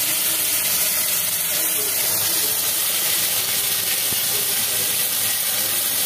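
Cumin and coriander paste hisses and sizzles steadily in hot oil in a home kitchen, a continuous close frying crackle throughout with faint talk underneath.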